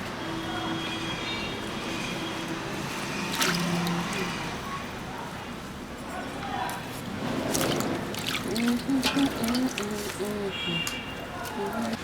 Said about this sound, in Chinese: 你再洗一点的这个小葱